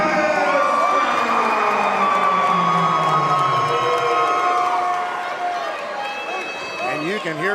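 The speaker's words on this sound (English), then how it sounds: "you can hear the crowd here getting involved in this one" Crowd noise at a cagefighting event: a sustained roar and shouting from the audience, with voices and whoops rising and falling and an announcer-like voice mixed in, growing more agitated toward the end.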